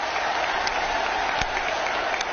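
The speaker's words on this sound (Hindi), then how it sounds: "जोरों से ताली बजाइए साथियों" A crowd applauds in honour of cheetahs brought to India from Namibia, a dense, steady clapping that holds at an even level throughout.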